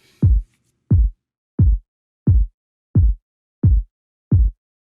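Seven deep, punchy uncompressed kick drum hits land at an even, steady tempo, each a short boomy thump with a quick decay into silence.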